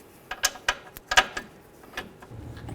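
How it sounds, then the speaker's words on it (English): A hand ratchet tightens the caliper mounting bolts on a 1994-2004 Chevy S-10 front end, making several quick, crisp metallic clicking bursts close by, followed by a faint shuffle. "Now we're going to put in both of our caliper mounting bolts."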